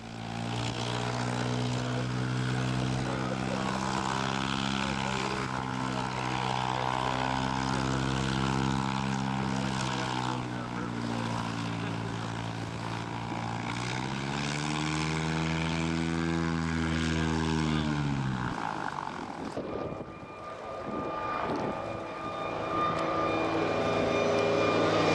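Propeller engines of seaplanes drone loudly and continuously at a lake fly-in on Otsego Lake, the pitch rising and falling as an aircraft passes, then a brief lull before the engine noise swells again.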